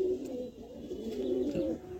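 Domestic Kaldum pigeons in a home loft coo with low, throaty, rolling calls that rise and fall continuously for about two seconds. The birds are close and clear, with no talking.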